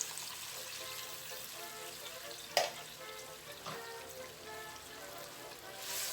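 Pork simmering in a pan with mushroom brine added, a steady soft bubbling sizzle running throughout, with a couple of brief sharp clinks or stirs partway through.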